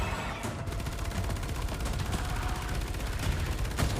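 In the video game Evolution 2, shotguns and other weapons fire at alien spiders, making dense, rapid bursts of gunfire that pile into a loud, continuous barrage of game combat.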